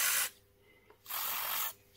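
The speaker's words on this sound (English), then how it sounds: "So we'll just spray those." Aerosol spray can hissing onto parts of a rusty Honda CT110 postie bike during a workshop teardown, two close, steady bursts of about a quarter second and seven-tenths of a second separated by a quiet pause.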